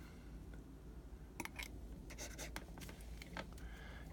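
An ink pen scratches across paper in soft, close strokes, a run of brief scratchy bursts over a faint steady room hum, with no talking.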